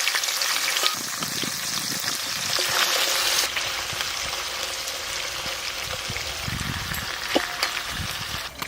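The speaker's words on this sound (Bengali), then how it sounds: "এবার মাছ ভাজাগুলো দিয়ে দিলাম" Whole fish pieces, already fried, sizzle and crackle steadily in a hot pan of oil as they go in and are stirred, while a Santali grandmother cooks amudi fish curry. The close, loud frying runs the full length with occasional stirring knocks.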